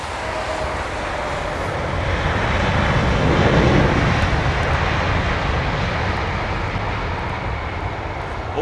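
A jet airliner lands in the rain at London Heathrow Airport: a loud, broad engine roar swells and fades over several seconds, heard from nearby without talk.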